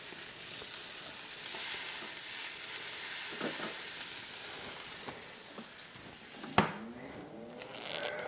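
Food sears and sizzles on an Instant indoor grill as the lid opens, a steady bright hiss with a sharp clack partway through, close and loud with no talking.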